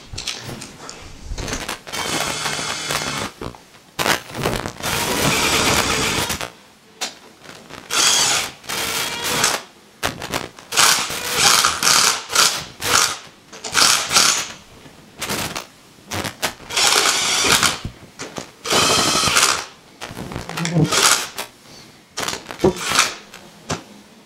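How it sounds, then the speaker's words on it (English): Head bolts are being tightened on an Agri-Inject Series G pump, heard as a series of close, irregular ratcheting and scraping bursts of metal and tool noise, stopping and starting with short pauses between them. "As we tighten the head bolts, we don't want to take one of them all the way in and then start on another."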